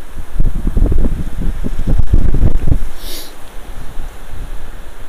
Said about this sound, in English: It is really windy now.